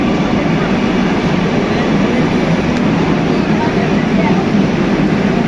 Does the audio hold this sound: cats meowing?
no